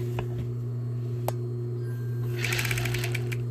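A sewing machine stitches thread through a weaver's knot, a steady low motor hum with a single click, then a quick rapid run of needle strokes near the end.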